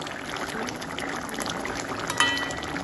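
Thickened taro curry simmers in an uncovered pot, a steady bubbling and sputtering hiss with a small splash near the end, close and moderately quiet.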